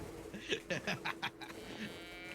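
Cows mooing in the hunting game The Hunter, a few low drawn-out calls from livestock heard moderately close, with someone talking faintly in the background.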